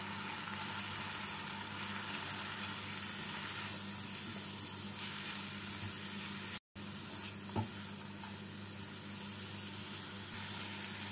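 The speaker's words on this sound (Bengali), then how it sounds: "লাল লঙ্কা গুঁড়ো, কাশ্মীরি লাল লঙ্কা গুঁড়ো, চিনি, অল্প জল দিয়ে মশলাগুলোকে ভেজে নেব।" Spices with red chilli powder, Kashmiri red chilli powder, sugar and a little water frying in a pan for paneer do pyaza, a steady soft sizzle and hiss throughout, with a brief dropout and no talk.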